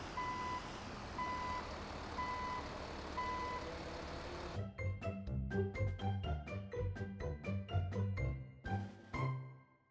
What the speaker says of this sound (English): Concrete mixer truck.